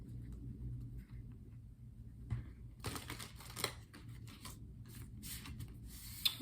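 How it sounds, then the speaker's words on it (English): Soft papery shuffling and riffling of tarot cards in short bursts, quiet and close, over a low background hum. "Let's continue by doing some shuffling so we can pull 7 tarot cards"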